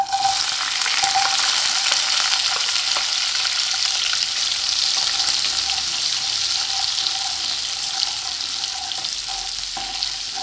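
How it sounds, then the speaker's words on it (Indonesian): Shallots, bird's eye chilies and curly red chilies fry in hot oil for a street-style pecel lele sambal, making a dense, steady sizzle and crackle that stays loud and continuous throughout, with no talking. "Lalu kalau sudah panas, kita goreng bawang merah, cabai rawit dan juga cabai keriting merahnya."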